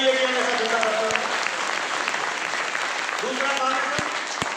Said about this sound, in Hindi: ताली बजाइए और गर्व के साथ बजाइए कि हम ऐसा धंधा करते हैं।